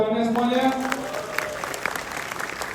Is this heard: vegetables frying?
no